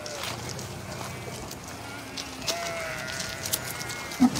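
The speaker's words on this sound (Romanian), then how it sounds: "Uitați-vă aici câte oi vin de acolo." A flock of sheep on a hillside road, with faint, distant bleats scattered over outdoor background noise and a brief louder call near the end.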